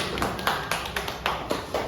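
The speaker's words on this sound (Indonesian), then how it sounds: "Tepuk tangan untuk Nala." A small classroom group claps in a loose, fairly quiet patter of separate, uneven hand claps, a handful of distinct strikes over about two seconds.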